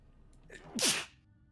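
A single sharp human sneeze, close and fairly loud, with a brief inhaled build-up and an abrupt burst during a tabletop game session online.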